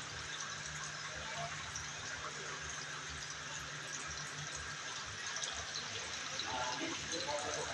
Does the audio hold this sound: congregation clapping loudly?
no